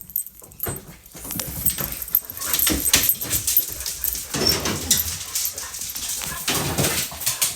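Several dogs whimper and bark in a small car, with jangling keys and movement noises mixed in; the sounds come close and fairly loud, overlapping in an uneven, restless run.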